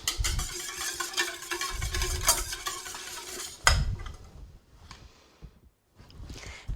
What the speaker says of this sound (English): So I'm going to get my egg and whisk it a little first